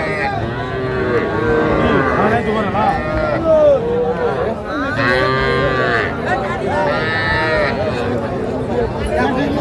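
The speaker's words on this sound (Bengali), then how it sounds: "এটা কি ষাঁড় বাচ্চা?" Young bull calves moo loudly and repeatedly at a crowded cattle market in Khulna, their calls overlapping with busy voices and general market chatter throughout.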